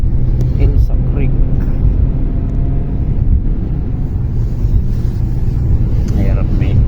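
A truck rolls along a road near Elsa Creek, Ontario, on a cold day with snow coming: a heavy, continuous low rumble with wind buffeting the microphone and people talking over it.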